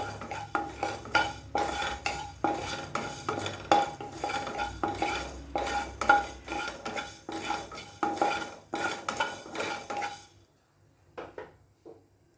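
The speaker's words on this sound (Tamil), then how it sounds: "மல்லியும் நல்லா வறுத்துக்குவோம்." Coriander seeds dry roasting in a pan, stirred briskly with a metal spoon, rhythmic rattling scrapes and clinks repeating for about ten seconds before falling quiet, with a few faint taps at the end.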